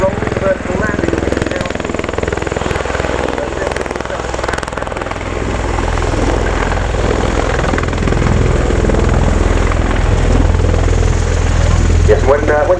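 A Bell Boeing CV-22B Osprey tiltrotor makes a rolling vertical landing at the RIAT air show at Fairford, its loud, throbbing rotor roar sustained and building slightly while an announcer talks over it.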